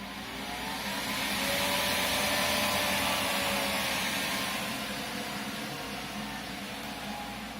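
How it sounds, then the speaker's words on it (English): An old Dell server running Windows Server 2003 at full load gives off a loud, steady, high-pitched fan roar and whine that holds evenly throughout, with no other sounds. "that machine is very loud at full load"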